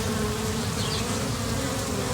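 Honeybee swarm from a five-year-old hive buzzing steadily and loudly at close range, a dense continuous hum with no talk.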